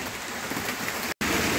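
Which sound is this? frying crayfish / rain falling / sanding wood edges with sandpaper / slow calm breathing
rain falling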